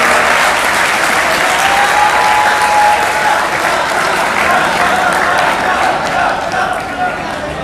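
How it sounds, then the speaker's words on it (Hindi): Applause at an Urdu poetry mushaira held at KEMU, loud and continuous across the whole stretch with a dense crowd clatter that fades slightly toward the end. "उनके लिए तालियां बजा दी"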